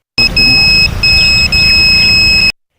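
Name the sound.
proximity alarm beeping on student-made wearable chip device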